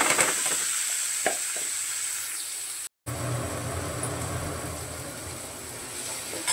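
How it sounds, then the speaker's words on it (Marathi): Curry leaves and onion fry in hot oil in a home kitchen, giving a steady close sizzle with a brief cut partway through, then a softer, rougher frying hiss. "कढीपत्ता वरतून टाकते कांद्याच्या वरतून."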